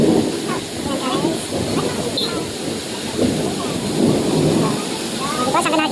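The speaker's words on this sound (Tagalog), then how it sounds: "Ang lakas ng ulan." Heavy rain pours steadily, with low thunder rumbling through, while voices speak over the downpour.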